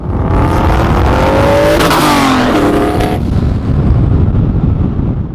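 A turbocharged 4.6L 2V Ford Mustang GT with a 70mm On3 turbo revs hard and loud, engine pitch climbing steadily, briefly dropping, then continuing at high load with a constant roar throughout.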